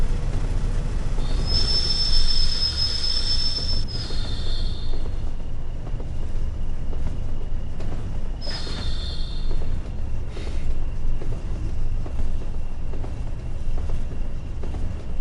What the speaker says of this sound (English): The good old clickety clack.